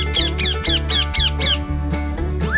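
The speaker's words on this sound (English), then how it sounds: "Parrot" A parrot squawks in a rapid run of six harsh, repeated calls, loud and close, over a steady low music bed, then one rising whistle-like note at the end.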